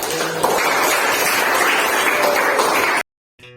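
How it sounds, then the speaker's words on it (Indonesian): Schoolchildren in a classroom clap for a student group, a loud, close burst of rapid applause lasting about three seconds before cutting off abruptly. "beri tepuk tangan untuk kelompok tulip"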